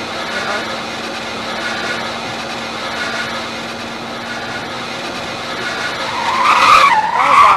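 A car in the Roblox game Greenville slides and spins out, a sustained smeared tire skid under a steady engine tone that swells into a louder squealing burst near the end.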